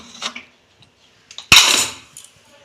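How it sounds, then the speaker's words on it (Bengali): Pressure cooker lid being opened over mutton curry, a sharp metallic clank followed by a brief burst of escaping steam hiss, preceded by a few soft clicks and small taps. "আমি ঢাকনা খুলছি"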